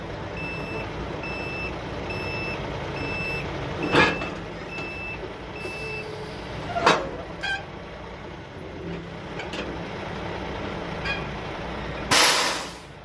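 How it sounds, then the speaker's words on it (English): A truck hauling a tandem-axle chassis trailer reverses with a steady series of evenly spaced backup beeps, while engine rumble runs underneath and several sharp bursts of air-brake hiss cut in, ending in a loud final hiss. "we're going to set the brakes on the trailer and we're going to reverse the truck back"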